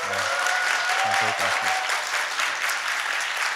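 Conference audience applause rolls on steadily for a nonprofit session, many hands clapping at a fairly loud level while a presenter's voice briefly speaks over the start.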